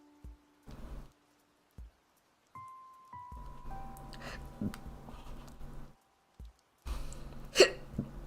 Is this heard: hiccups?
yes